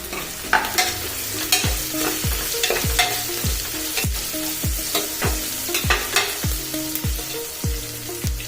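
Chopped green chillies go into a hot pan of onions and are stirred, giving a loud sizzle with a regular series of spatula scrapes and knocks against the pan, close by and with no voices.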